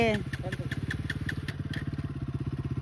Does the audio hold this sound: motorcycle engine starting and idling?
yes